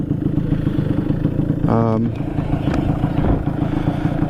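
A Vespa PX scooter with a VMC Super G 177cc kit runs with a loud, throbbing two-stroke engine note, steady idle chugging and a brief rise in pitch midway, close by throughout.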